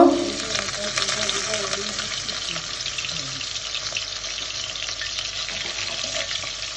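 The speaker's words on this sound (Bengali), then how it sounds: "আমি পেঁয়াজ রসুনটা একটু ভালো করে ভেজে নিব" Chopped onion, garlic and green chilli fry in hot oil in a pan, a steady dense hiss and crackle that stays close and even throughout, starting with a brief louder burst.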